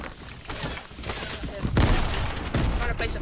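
Sniper fire and other gunshots sound in a fast trio battle-royale video game match, loud bursts and booms cracking over a busy mix with a voice talking through it.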